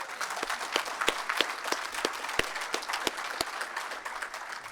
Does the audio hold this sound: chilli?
no